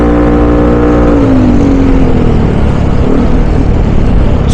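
Dense highway traffic on Marcos Highway heard from a motorcycle, with a loud, steady engine drone and rumbling road noise throughout, a gliding engine tone rising and falling as vehicles move around.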